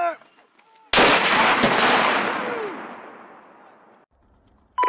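A mortar fired by 173rd Airborne Brigade soldiers lets out one loud, sharp blast that booms and slowly rolls away over about three seconds, with soft voices faintly heard before the shot.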